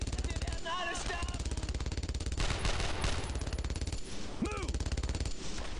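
Sustained rapid gunfire from a World War II shooter game, dense continuous bursts throughout with a short spoken command heard over the shooting.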